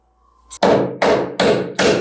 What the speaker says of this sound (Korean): 수평이 안 맞으면 망치로 들어 올려서 쳐가지고 맞춰줍니다